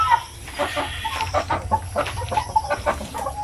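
Basilan native chickens cluck in a close, busy chorus of short repeated calls over a low background murmur.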